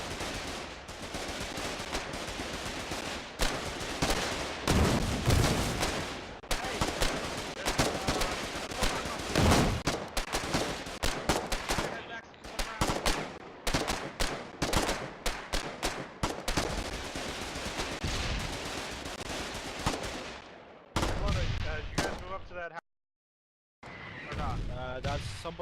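Gunfire from a pillbox in a war video game, dense bursts of shooting that rise and fall over many seconds, with brief gaps and a near-silent break toward the end; people talk over it at times.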